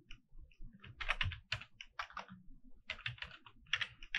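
File name typed on a computer keyboard, a few short bursts of soft, close key clicks with brief pauses between them and no talking.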